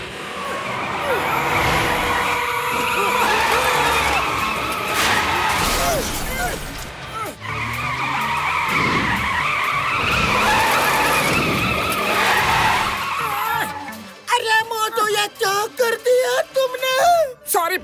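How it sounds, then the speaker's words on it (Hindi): A cartoon car skids loudly, tyres screeching for several seconds, followed by a crash and a rapid run of clattering, breaking impacts at the end, all close and dominant. "मेरी कार ठुक गई, हर्जाना देना पड़ेगा।"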